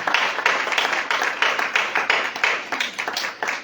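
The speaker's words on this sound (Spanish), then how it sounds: "Denle un fuerte aplauso a Él" A church congregation claps for several seconds in a dense, rhythmic burst of applause that fills the room evenly, with no talking over it.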